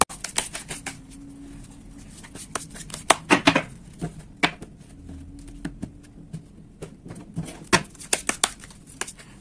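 Rapid papery riffles and taps of chakra oracle cards being shuffled by hand, in uneven bursts close to the listener, with quieter pauses between.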